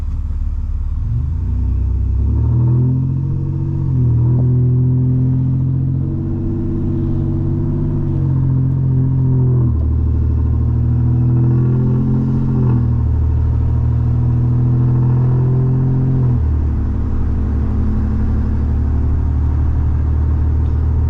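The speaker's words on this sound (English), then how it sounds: "I'll just do like a normal acceleration right here off the red light, and maybe I'll be able to hear it" A deleted and tuned 2019 Ford F-150 with the 3.0 Powerstroke diesel pulls away from a red light, a steady loud low engine drone rising in stepped gear changes, several climbs and shifts across the run, with no talking.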